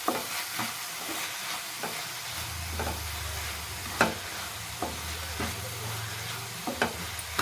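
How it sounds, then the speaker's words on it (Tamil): Tomato and onion sauté with rock salt in a pan over moderate heat, a steady soft sizzle with periodic scraping stirs, while a low hum runs underneath through much of it. "ஒரு ஃபைவ் மினிட்ஸ் நல்லா இது மாதிரி வதக்கி எடுத்துக்கலாம் தக்காளி"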